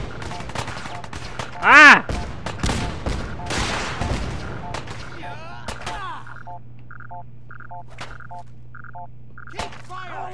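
Gunfire in the video game Fallout 4: a rapid burst of shots and thuds up front, then quieter scattered gunfire under a steady electronic hum and beeping tones, with a brief shout.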